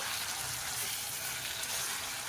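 Mango chicken curry masala sautés in oil once the water has cooked off, giving a steady, even frying hiss that stays constant throughout with no voices.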